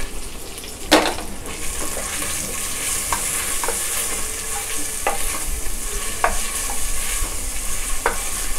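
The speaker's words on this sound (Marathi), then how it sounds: "हे छान व्यवस्थित परतून घेऊया, आल्या लसूणचा कच्चा वास जाईपर्यंत" Grated garlic, ginger and green chillies are stirred in hot oil in a pan, a steady sizzle broken by sharp scraping clacks of a spoon against the pan every second or so.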